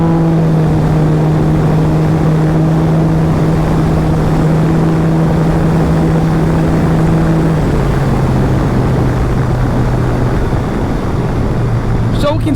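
An engine held at full throttle gives a loud, steady droning roar that drops to a lower pitch partway through and carries on unbroken.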